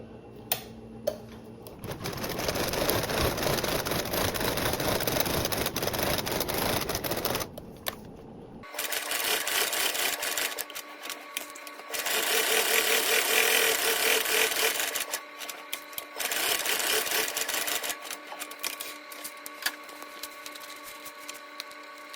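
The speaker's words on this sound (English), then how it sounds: "Now I'm going to sew around, top stitching on the marking that I just drew." A sewing machine top stitches around a tote bag in several bursts of rapid, even needle chatter, separated by short pauses, close and moderately loud.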